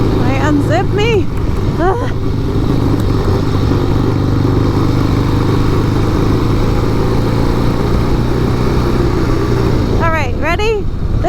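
A Harley-Davidson Sportster motorcycle runs in fourth gear, a loud, steady low engine rumble and wind roar throughout, with a voice speaking over it now and then.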